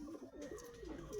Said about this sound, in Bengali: এই যে পায়রা